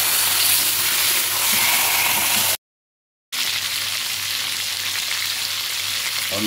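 Chicken pieces with chopped garlic frying in a pan, a steady loud hiss and crackle of hot oil that cuts out briefly, then resumes just as dense.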